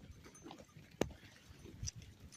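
A dog makes a brief sharp sound in a quiet outdoor scene, with faint low rustles and a soft thud shortly after.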